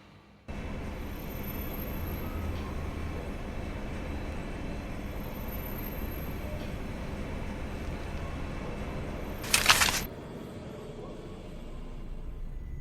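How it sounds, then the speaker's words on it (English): A train pulls in during the Dark City 7 video game, a steady loud rumble and rolling drone running nearly throughout, with a sharp high brief squeal near the end before it settles. "The train. Just in time."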